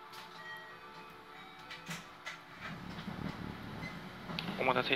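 A JR West Kanku Rapid train bound for Kyobashi departs. After a few tonal chimes and a voice, a rumbling, rattling motor and wheel noise rises and builds toward the end.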